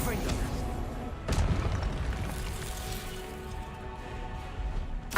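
A Confringo fire spell exploding in Hogwarts Legacy. A deep booming blast lands over dense game noise, with rumbling impacts and a second burst near the end, and a voice speaks over it.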